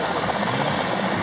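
A helicopter hovering close over snow at a winter motorcycle parade start on Lake Baikal, its rotor wash a loud, steady, broadband roar with a faint rhythmic beating throughout.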